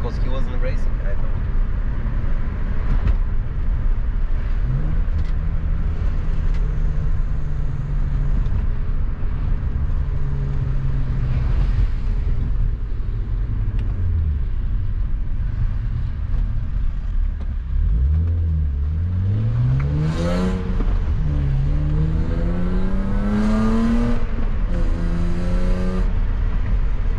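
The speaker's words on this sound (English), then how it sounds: "I'm in BMW Coupe with a noisy exhaust" A BMW E36 320i coupe with a 150 hp engine, manual gearbox and noisy exhaust drives through city streets, heard from inside. Its engine note rises and falls through gear changes, with a hard rev near the end, under steady speech.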